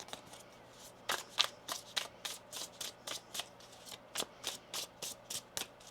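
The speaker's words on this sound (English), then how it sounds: "One more shuffle here." Tarot cards shuffled by hand in a quick run of about a dozen crisp riffling bursts, close and fairly quiet, with no talk.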